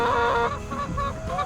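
Several homestead chickens clucking close by in steady, overlapping calls, fairly quiet and with no talking over them.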